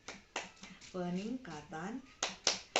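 A group at a P2K2 training session claps in a rhythmic chant, sharp hand claps falling in uneven bursts mixed with chanted voices, fairly faint and close.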